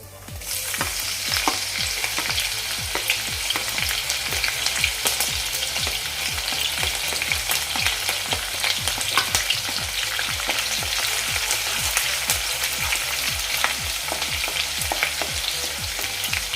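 Green chillies fry in hot oil for steamed cabbage bhaji, a loud continuous close sizzle with rhythmic spatula stirring and scraping that runs steadily the whole time.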